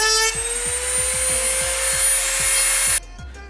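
A small power tool cuts out the intercooler sensor on a 2015-2017 Subaru WRX during a Perrin front-mount intercooler install, giving a steady, close, high-pitched buzz with a rapid rasping pulse that stops abruptly near the end.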